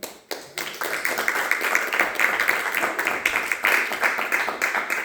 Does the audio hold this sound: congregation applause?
yes